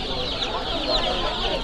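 Turkey chicks at a livestock market, with a dense, continuous chorus of high peeping and clucking close by and at steady loudness throughout.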